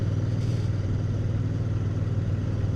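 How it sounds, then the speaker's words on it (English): Royal Enfield Bear 650 twin with its original-fitment exhaust, a steady low burbling idle throb, close and even throughout with no revving. "it's a nice little exhaust note for an original fitment"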